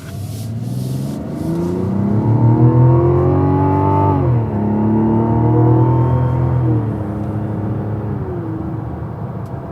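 Mazda CX-90 Turbo S pulling hard in sport mode, its engine note climbing steadily through the gears with a brief dip at each shift, loud and close from inside the cabin, no talking.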